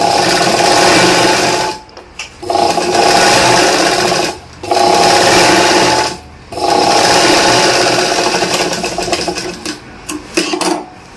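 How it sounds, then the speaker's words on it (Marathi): Sewing machine running close by as it stitches an extra seam on a katori blouse, loud steady whirring bursts separated by several short pauses, with no talk. "ह्या शिलाईच्या मध्ये एक शिलाई एक्स्ट्रा मारायची"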